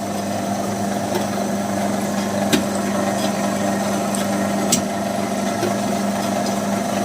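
A traditional chekku oil press grinds groundnuts into oil with a steady, droning mechanical hum and a constant low rumble, broken by a couple of faint knocks and no voices.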